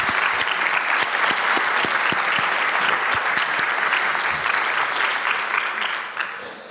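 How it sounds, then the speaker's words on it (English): Audience applause at a conference forum session, a dense steady clapping from a large crowd that holds for several seconds, then begins to thin and fade near the end. "May I invite you all for a big round of applause for the projects and for Paola Reit"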